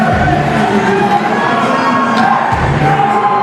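Crowd cheering and clapping greets wrestler Junior X's entrance at a UCW-Zero wrestling event, a steady, loud roar of voices filling the arena throughout.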